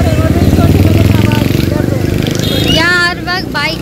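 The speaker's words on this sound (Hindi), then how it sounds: "यहाँ, हर वक्त बाइकें गाड़ियाँ सब गुजर, पी पी कोई पी पी बजाता है, कोई पू पू बजाता है।" A motorcycle engine rumbles loudly as it passes on a busy street, fading after a few seconds as voices come in.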